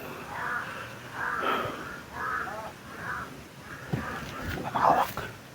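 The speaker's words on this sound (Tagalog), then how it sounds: "Yan tol, may mga uwak tol." Crows caw in scattered bursts at moderate distance, their rough calls coming in uneven clusters, the loudest near the end, over faint ambient noise.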